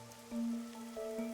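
Steady rain pours over the perpetually soaked streets of Kanai Ward in the video game Master Detective Archives: Raincode, a soft continuous patter sitting beneath sustained tonal game music.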